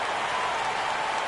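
Steady crowd cheering and roaring from a baseball stadium in a PS4 baseball video game, a continuous broad wash of noise at an even level with no voices standing out.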